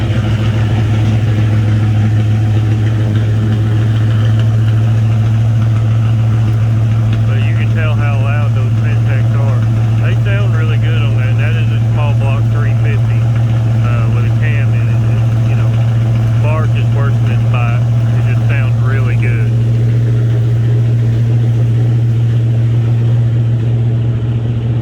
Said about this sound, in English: You can hear that idle change in that car when it starts to warm up.